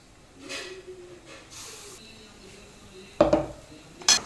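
Mango pulp being stirred into pan-roasted semolina, with a few scattered scrapes and soft clinks of a utensil against the pan, then two sharper metallic knocks near the end, fairly quiet.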